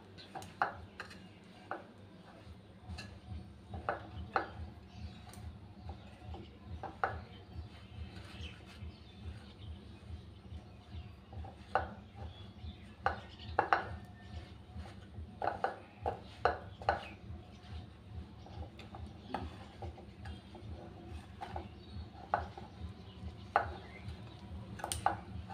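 Palm cake batter for taler pitha, seasoned with half a spoon of salt, mixed by hand in a bowl: irregular soft scraping and tapping strokes at close range, with faint birdsong in the background and no voices.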